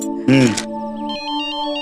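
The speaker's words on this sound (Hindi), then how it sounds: "बीजी का फोन।" A phone's ringtone plays a steady electronic melody of repeating tones, with a voice speaking loudly over its start, at a home in a domestic drama scene.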